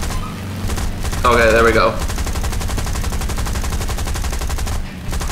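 Continuous rapid gunfire in the War Thunder video game, a fast even rattle of shots that keeps going for several seconds with only brief pauses, while someone speaks briefly over it.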